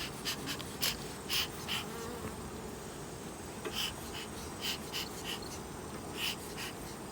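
A dense, steady hum of many honey bees buzzing close by at a hive in late summer, with brief sharper tones as individual insects pass near.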